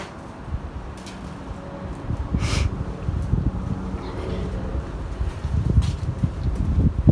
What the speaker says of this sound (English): I apologize in advance for the wind